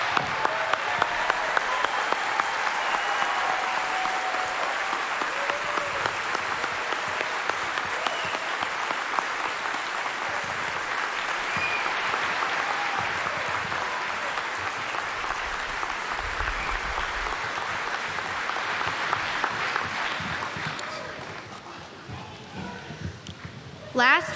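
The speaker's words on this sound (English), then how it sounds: "welcome them with your applause to the Bulldog family" Sustained audience applause greets the graduating 8th grade class at a middle school promotion ceremony, a steady dense wash of clapping from a large crowd that holds for over twenty seconds before tapering off.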